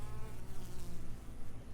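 Dense, steady buzzing of a mass of honeybees crawling over honey-filled comb frames, a continuous close insect drone with no talk.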